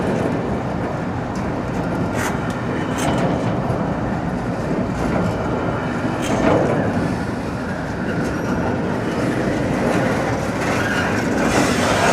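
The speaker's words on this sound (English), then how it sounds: "Now we're back to the big old container cars." Union Pacific freight train container cars roll steadily past close by, a loud continuous rumble with clickety-clack wheel beats and occasional high wheel squeal.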